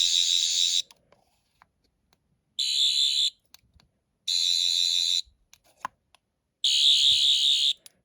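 A Rubbertoe Replicas 10th Doctor sonic screwdriver with its slider extended gives four loud, even electronic warbling buzzes, each lasting about a second, with short silences and faint handling clicks between them.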